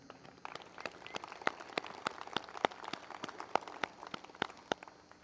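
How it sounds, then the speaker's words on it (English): An audience at a Nutrena working western rail clinic claps, a scattered round of applause with sharp individual hand claps spread steadily over about five seconds, moderately distant and without talk. "So let's put a big round of applause for Nutrena."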